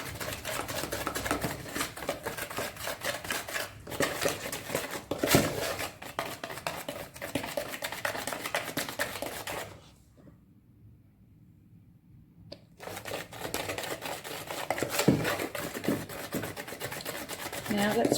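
Mosaic grout stirred to a thick, icing-like consistency, with steady scraping, tapping and clinking of a tool in a container, paused briefly midway, under a person talking.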